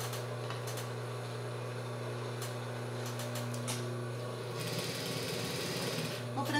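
Sewing machine stitching down gathered fabric on a child's shorts, a steady close mechanical hum with faint background voice, quickening into a brisker rattling run near the end.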